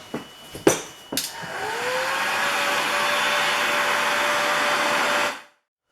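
A heat tool blows steadily onto a plastic Kubota snow blower shoe extension, a continuous airy roar lasting several seconds after a few sharp knocks at the start, then cutting off abruptly.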